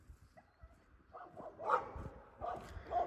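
Dogs barking at another dog outdoors, a few scattered barks and yips of moderate loudness, rising toward the end, with quiet gaps between them.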